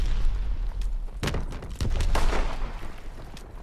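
Gunfire in the World War II shooter game Call of Duty: WWII, a burst of sharp shots and booming impacts in the middle, with rumbling battle noise around it.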